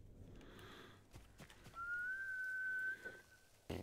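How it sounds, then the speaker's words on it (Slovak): A sustained whistle rings out in Ghost of Tsushima Director's Cut to call a horse. The single steady tone follows a few soft game noises, is fairly faint against quiet ambience and ends abruptly. "zapískal som na koňa, ten koň nedošiel"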